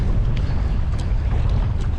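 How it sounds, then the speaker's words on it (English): Strong wind buffets the microphone in a constant low roar, gusting heavily throughout with no voices. "it's heckin' windy, y'all"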